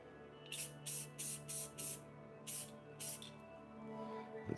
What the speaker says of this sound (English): I'm going to go ahead and clear coat her face real quick.